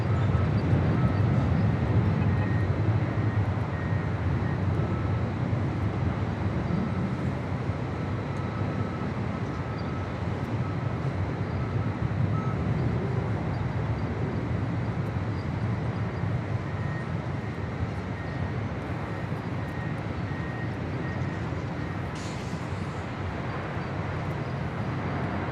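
A Hawaiian airliner takes off from runway 24 Left at Los Angeles International Airport, a steady, loud jet roar that holds without a break for the whole stretch, with no talk over it.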